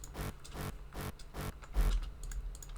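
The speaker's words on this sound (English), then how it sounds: "we also bring in this womp sound, as I called it, which is Fade 17 from the Hardstyle Force sample pack" A rhythmic womp sample, Fade 17 from the Hardstyle Force pack, repeats on the offbeat in a hardstyle track. Short broadband pulses arrive at an even pace, each one swelling and fading quickly.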